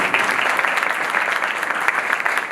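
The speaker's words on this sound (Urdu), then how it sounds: "زوردار تالیاں" A church congregation at a Sunday sermon applauds loudly, a dense steady wash of clapping throughout with no pauses.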